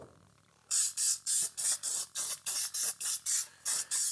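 Spray adhesive hisses onto the bottom of a Yamaha Tri-Z 250 seat pan in a dozen short, loud, evenly spaced bursts after a brief quiet start, each spurt bright and airy with a tiny gap between them.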